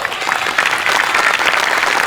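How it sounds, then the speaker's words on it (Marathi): Loud, sustained applause from an audience at a Marathi comedy show, a dense wash of clapping that holds steady for about two seconds with no voices over it. "एकदा जोरदार टाळ्या प्लीज"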